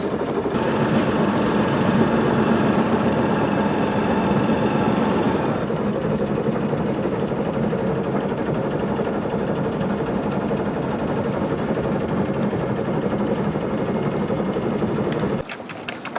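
A steady, low boat engine drone runs throughout, idling at a constant pitch in reverse toward shore, with a slight shift midway, then cuts off abruptly near the end.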